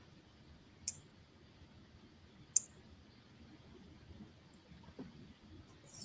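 Scissors cut hair in a quiet room, making two sharp, separate snips and then a softer click later.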